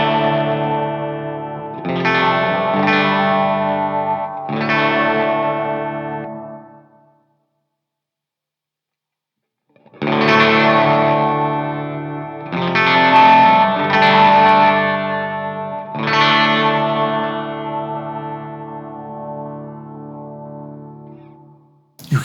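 A Polyend Mess stereo multi-effect unit processes a bright, distorted, chorused tone, with sustained harmonic swells that pulse and shift over about twenty seconds, broken by a silent gap of a couple of seconds, loud and without talk.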